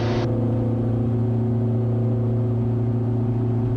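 Diamond DA42 Twin Star twin-engine aircraft at takeoff power, a steady loud drone with strong low harmonics that holds evenly throughout, with a brief hiss at the very start.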